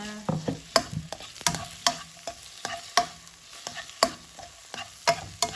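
Eggplant stir fry being stirred in a pan: repeated scraping strokes of a utensil against the pan at an irregular pace over a light, continuous sizzle, heard close up.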